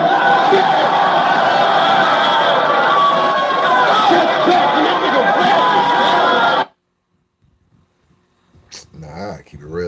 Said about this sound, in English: Y'all cheering a little too much.